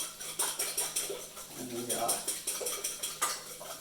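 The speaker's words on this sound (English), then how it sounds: "And the more you whisk them, the fluffier they are." Eggs whisked for a frittata, the whisk ticking rapidly and rhythmically against the bowl at close range while someone talks over it.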